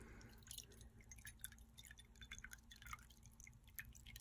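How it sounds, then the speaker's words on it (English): Water poured into a bowl gives a faint, quiet trickle with light dripping and splashing that runs steadily for a few seconds, with no voices. "we're just going to pour some water into our bowl"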